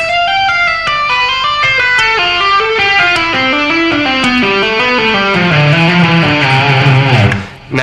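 A long run of distorted electric guitar legato moves through a descending hammer-on and pull-off scale pattern, notes rippling in quick even succession, loud and unaccompanied until a brief drop at the end.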